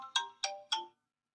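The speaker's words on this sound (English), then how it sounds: "That was my alarm." Three quick, bright electronic chimes from a phone alarm in an even rhythm, then silence.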